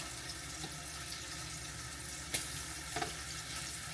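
Meat sears in a hot pan while pieces are flipped. There is a quiet, steady sizzle throughout, with a couple of brief clinks or scrapes near the end and no talking.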